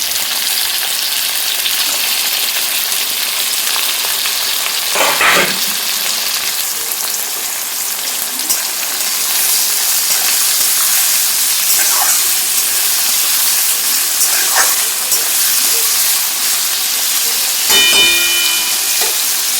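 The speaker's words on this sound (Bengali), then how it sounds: "এই যে কেটে রাখা সবজি আমি এখানে অ্যাড করে দিচ্ছি।" Chopped potato, capsicum and carrot fry in a pan, giving a loud continuous sizzle and hiss, with a few brief clicks of a utensil moving the vegetables.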